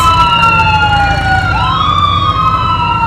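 A county ambulance siren wails loud and close as it passes in a Christmas parade in Marion, its pitch sweeping steadily over low engine rumble.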